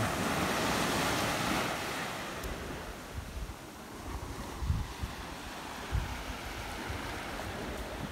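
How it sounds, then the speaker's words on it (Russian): Gentle surf washes onto the sandy shore of Trunk Bay beach, US Virgin Islands, in a steady hiss, with a small wave surging and fading, light wind in the background. "Волна небольшая, она смывает."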